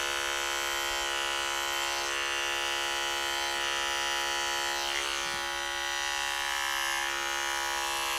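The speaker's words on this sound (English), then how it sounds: "I'm attaching the clipper to the comb. So your clipper over comb technique" Electric hair clipper running steadily over a comb on straight, light-colored hair during a fade and blend, a continuous close buzz with faint shifts as the blade moves, no talking.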